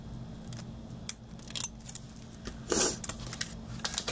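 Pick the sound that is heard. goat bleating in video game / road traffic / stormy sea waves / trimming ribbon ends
trimming ribbon ends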